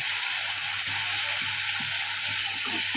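Ginger, garlic and spices fry in a pan for fish curry with a steady, close hiss and sizzle, and light stirring scrapes come through now and then.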